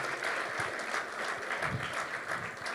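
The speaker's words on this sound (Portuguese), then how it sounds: "Dê um aplauso, celebre ao Senhor." A church congregation applauds in celebration during a worship service, loud continuous clapping from many hands filling the room.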